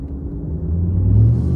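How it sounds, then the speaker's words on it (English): A low engine rumble from a 2022 Ram 1500 TRX pickup with a Hellcat V8 driving, steady and close, swelling slightly toward the end with no voices. "it's got plenty of sound when it comes to driving on the roads here with this car"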